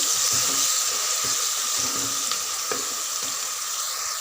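Onion and green chili paste fry in a pan with a strong, steady hiss, close and loud, broken by a few soft stirring scrapes before cutting off abruptly.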